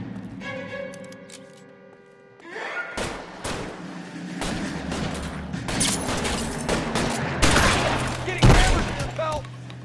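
Bursts of gunfire in the 1940s crime game L.A. Noire crack and thud in rapid volleys against a shootout scene, loud and close, with spoken game dialogue and a player's voice in between.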